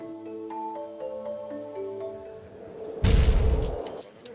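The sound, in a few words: fireworks going off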